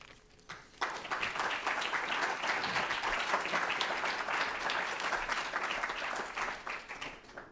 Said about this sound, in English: If you want to clap again for Cliff, you can.